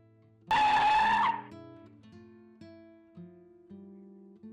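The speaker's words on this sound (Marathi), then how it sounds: "त्याने गाडी रिव्हर्स घ्यायला सुरुवात केली" A car reversing with its tires skidding, a sharp loud squeal that breaks out suddenly and cuts off after under a second, then fades into a low tonal hum of background music.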